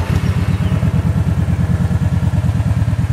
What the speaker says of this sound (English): Let's start this big beast up.